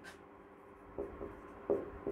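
A pen or pencil writing on paper during a physics lesson on lens derivations, with a few faint, close strokes and scratches in a quiet room.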